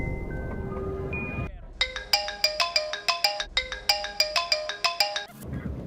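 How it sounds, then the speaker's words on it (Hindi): Mobile phone ringtone from an incoming call, a bright, repeating melodic chime pattern playing loudly for several seconds, preceded by a brief stretch of background music. "पापा का फोन आ रहा है पर फोन चार्ज नहीं है।"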